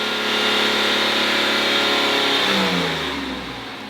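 A Ford AU Falcon engine revs up to 4,500 RPM, holding a loud, steady high-rev roar close by before the pitch drops and it winds back down, with no voices.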